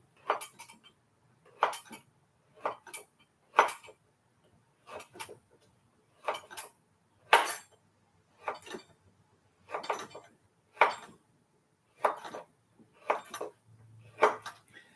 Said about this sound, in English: now let's do one of these bacon and pork meat sticks. I'm just going to cut that in little slices